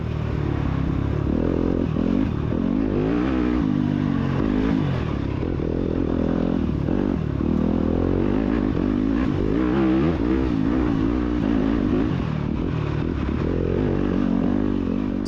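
Scrambler motorcycle accelerating hard during a Kingston SORCS championship race, its engine a loud, continuous close-up roar that rises and falls with throttle, plus some clatter, with no talking.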